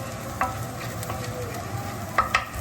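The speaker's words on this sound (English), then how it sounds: "just going to cook it just a tad here until the garlic is fragrant and also a little softened" Garlic cooks in a hot pan before beef goes in for shaking beef, giving a steady close sizzle with a few sharp clicks of stirring.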